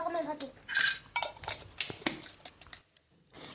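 Metal tiffin lunch boxes are packed in a home kitchen, giving a run of close clinks, taps and rattles of containers and lids in irregular bursts, with a faint voice in the background.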